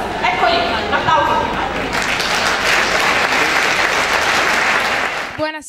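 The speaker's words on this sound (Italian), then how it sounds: "Eccoli, un applauso." Loud, dense audience applause greets a cathedral choir at a chorus contest, building after a brief thinner start and holding steady before cutting off abruptly, with a voice beginning at the very end.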